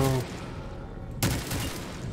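Gunfire in Black Ops 3 custom zombies on the Fallout Vault 47 map, a burst of shots at the end after a quieter stretch, moderately loud and close.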